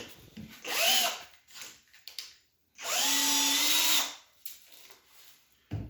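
Two bursts of a whining electric drill boring a hole in a glass bottle, the second longer and steady, with quiet pauses and a faint click between them.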